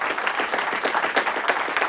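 Audience applause for an Italian band in a TV studio in 2005, a dense, steady wash of many hands clapping that holds at an even level for two seconds, with no voices.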